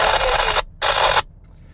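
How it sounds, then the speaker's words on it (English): Static hisses over a Wouxun KG-805G GMRS walkie-talkie fitted with a Nagoya NA-771G antenna: two loud, harsh bursts of noise separated by a brief gap, then near quiet. "There's so much static on the line."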